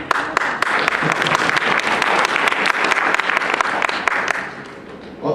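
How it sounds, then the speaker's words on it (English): A keynote audience at a Dharma and Yoga Fest bursts into dense, sustained applause, loud and close, fading a little toward the end. "thank you for those that applauded"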